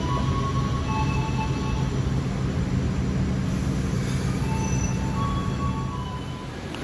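Taksaka train passing through Yogyakarta station, a steady broad rumble of rail cars and wheels close by throughout, with faint squealing tones above, easing off slightly at the end.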